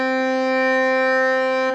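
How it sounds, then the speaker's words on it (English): A Roland piano accordion sustains middle C with the clarinet (middle) reeds engaged, one steady reedy note held for under two seconds, bright and close. "if you've got your clarinet reeds on, or middle reeds, it sounds like this"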